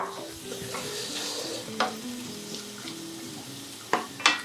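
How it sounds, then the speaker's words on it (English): Already-cooked prawns warm through in butter in a hot non-stick pan, making a soft, steady sizzle under quiet background music, with a few louder scrapes and clinks near the end. "So all I'm really doing is warming them through in the butter."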